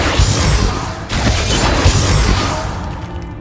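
Confringo explosion spell in Hogwarts Legacy, loud booming blasts and crashing debris that fill the clip, with a sharp fresh burst about a second in before the rumble slowly thins.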